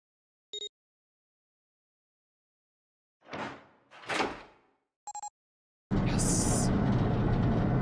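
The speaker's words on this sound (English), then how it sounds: "The door opened." A door opens in the video game 999: a short chime, then two soft whooshing slides, a second chime, and a loud steady rumble that holds to the end; no voices are heard.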